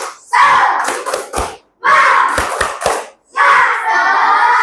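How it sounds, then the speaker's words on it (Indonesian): Audience clapping hands in unison at an Indonesian classroom or group gathering, three loud bursts of rhythmic patterned claps separated by short pauses, close and energetic. "Oke, tepuk tangan."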